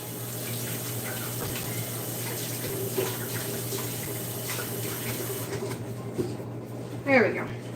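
Tap water runs steadily into a kitchen sink to rinse a whisk during Thanksgiving cooking, a continuous close hiss under a low steady hum, with a brief clatter near the end.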